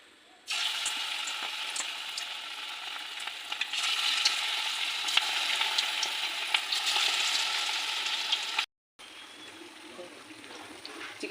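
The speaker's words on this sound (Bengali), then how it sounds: "কড়াইতে তেল গরম হয়ে গেছে, এবার একটা একটা করে পকোড়াগুলো ভেজে তুলে নেব।" Chicken pakoras deep-fry in hot oil in a wok, giving a loud, steady sizzle and crackle that cuts off briefly and then resumes, with no voices.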